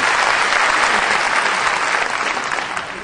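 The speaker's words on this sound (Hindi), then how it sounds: "जरा ताली वाली बजा के किसी।" A large audience claps at an evening tribute event in Surat, a thick continuous wash of applause that stays loud throughout and tapers a little toward the close.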